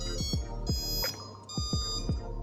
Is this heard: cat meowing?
no